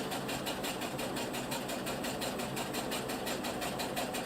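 A sewing machine runs steadily while stitching fabric, with a fast, even mechanical chatter and a whirring hum at moderate distance. Nobody speaks.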